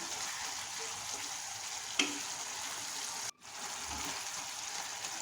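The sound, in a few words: fish frying and stirred with bean seeds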